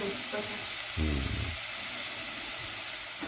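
Fish cake soup cooking in a pot, with a steady steamy hiss and sizzle throughout and a brief louder bubbling burst; a voice speaks faintly at moments.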